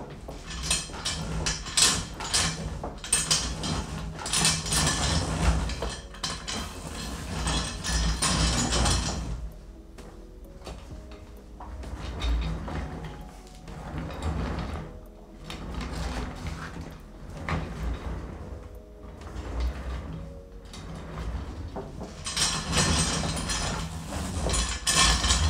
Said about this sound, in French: si on veut bouger la chaise sans être forcément assis dessus, ça roule pas très bien et surtout ça fait beaucoup de bruit